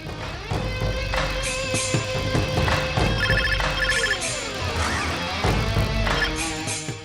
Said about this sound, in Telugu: శకుంతల, నేను ఫోన్ చూసొస్తాను